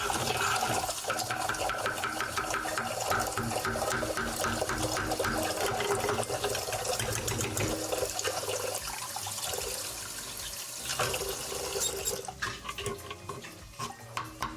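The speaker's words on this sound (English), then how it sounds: "And get some water in there to dissolve this." Water runs steadily into a cooking pot holding sugar, a continuous rushing splash that changes tone as the pot fills, then eases near the end with a few clunks of handling.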